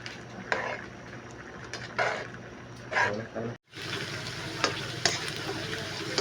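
Spaghetti goes into a pot of boiling water with a splash of cooking oil, producing a hissing, bubbling wash broken by a few louder surges and faint clinks of cookware.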